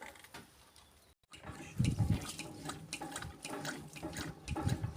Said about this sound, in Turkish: Çeşmeden su geliyor.